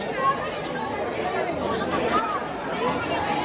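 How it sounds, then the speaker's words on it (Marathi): Devotees throng Titwala Siddhivinayak temple, producing a constant murmur of overlapping chatter from many people nearby, even and unbroken with no single voice standing out. "माणसं आपल्याला तिकडे तिकडे भरपूर गर्दी आहे"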